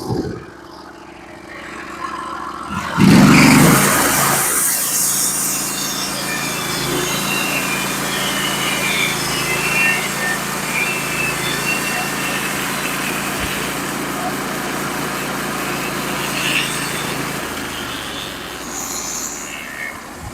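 A Norwood HD36v2 sawmill cuts 14-foot, 5/8-inch thick boards, with an engine starting up loudly and then a steady, close, high-pitched engine whine and blade buzz running through the cut, with no talk.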